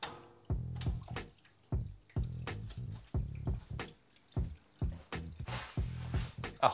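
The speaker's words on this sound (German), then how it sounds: "Wir werden mal einen Stecker reinstecken vom Wasserfall." A small waterfall in a terrarium tower trickles and splashes close by in uneven, pulsing bursts of water, with no one talking.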